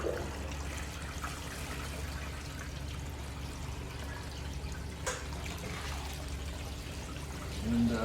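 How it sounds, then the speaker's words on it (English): A garden hose runs steadily, rinsing Lake Superior beach sand off plastic beach mats. It makes a continuous splashing, hissing stream with a soft trickle, moderately quiet and unbroken throughout. "turn the water back on here."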